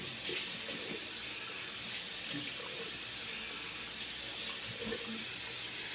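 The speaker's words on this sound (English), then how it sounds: "Let's go ahead and rinse my face off here." A tap runs steadily into a sink while a face is rinsed after a straight razor shave, a constant close hiss of flowing water broken by small splashes.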